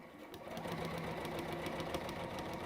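A sewing machine runs steadily, stitching in reverse to back-tack a seam, with an even, continuous motor whir and rapid needle chatter at moderate loudness and no talking.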